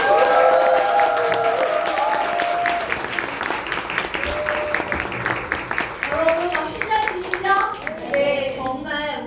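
Sustained applause from an audience for a speaker at a company talk at a head office in Bundang, steady clapping throughout with a few voices and murmurs over it, thinning slightly toward the end.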